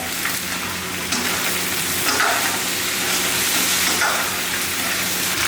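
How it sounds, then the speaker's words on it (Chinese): Pork ribs stir-fry in a hot wok with ginger and scallion, giving a loud, steady sizzle and hiss with occasional scraping stirs throughout. "继续给它炒香"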